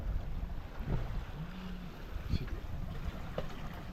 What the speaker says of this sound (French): quand il y a un petit vent comme ça, là, de 8-10 nœuds